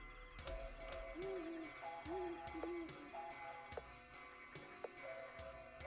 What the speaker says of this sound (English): That owl hooting.